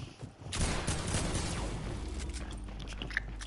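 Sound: burst of gunfire in a video game

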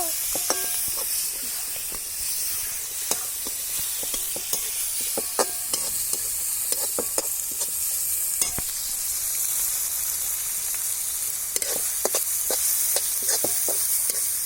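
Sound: tomatoes frying in oil

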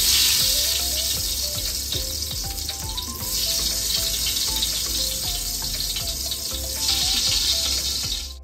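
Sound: ghee from frying onions sizzling in hot pan for biryani masala

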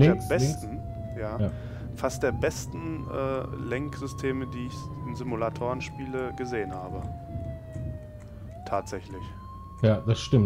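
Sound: emergency siren in Flashing Lights video game

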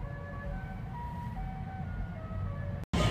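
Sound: car horn playing a novelty melody

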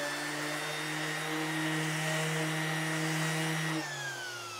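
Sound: power sanding camphor laurel wood with 60 grit

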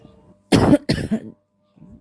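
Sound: coughing

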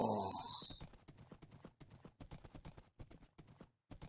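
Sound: horse galloping in a video game

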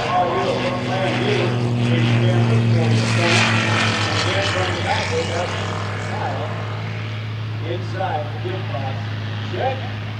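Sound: Kitfox S7 Speedster light airplane flying a pass

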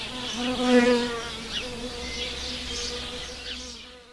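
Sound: solitary bees buzzing

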